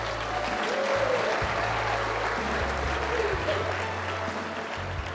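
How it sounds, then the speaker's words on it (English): Steady applause from a large audience at the closing ceremony of a geothermal congress, a dense wash of clapping sustained at even loudness throughout, with a low hum beneath. "A round of applause for him, please."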